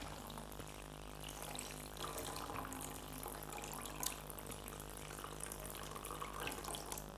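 Clean drinking water pours into a jug in a continuous, fairly quiet trickling gush with a faint gurgle, steady for several seconds and heard alone without talk.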